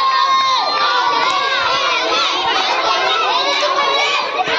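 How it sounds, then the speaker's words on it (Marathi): A crowd of schoolchildren shouts and cheers continuously and loudly during a langdi race at a school's annual sports festival, a dense wall of excited voices. "अमुलाल साठी टाळ्या वाजतायत."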